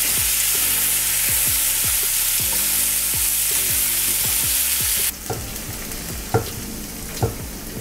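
Pork belly and onions fry loudly in a pan, a steady dense sizzle broken by repeated scraping stirs of a utensil, then the sizzle drops back to a softer crackle with a few sharp clinks near the end.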